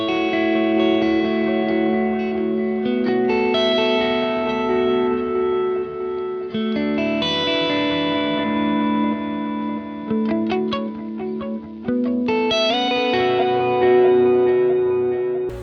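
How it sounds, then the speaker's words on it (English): Electric guitar through a Walrus Audio delay pedal with the repeats swelling in, sustained notes and chords blooming into an ambient wash of echoes, loud and alone. "So you can hear that the delay is like swelling in, which I think is a really cool sound, especially for like really ambient kinds of things."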